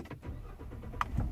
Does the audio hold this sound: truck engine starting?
yes